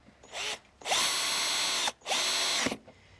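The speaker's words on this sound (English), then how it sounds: "simply turn it over using one of your screws with my cordless drill" A cordless drill driving screws into a wooden bird feeder whirs in short bursts, three separate runs with brief pauses between, close and loud, each spinning up and winding down quickly.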